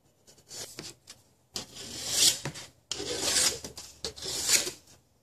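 Hand file rasping across a metal edge to remove burrs, three long bursts of strokes at close range, with short pauses between them and no talking.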